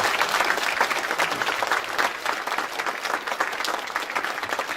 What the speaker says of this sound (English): Please give a warm round of applause for Mother Kong